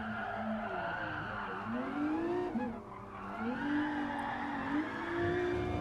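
Nissan GT-R racing car drifting in Gran Turismo Sport, a continuous engine drone with rising and falling pitch as the revs shift, steady and moderately loud with no talk.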